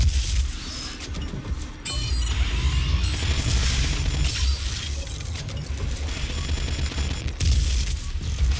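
Rapid bursts of automatic machine-gun fire in the video game DOOM, with sharp cracks and booms, loud and continuous, punctuated by brief pauses and shattering impacts.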